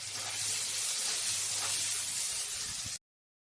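Potato pieces frying with salt and turmeric give a loud continuous hiss and sizzle for about three seconds, with a faint low hum beneath, then cut off abruptly to silence.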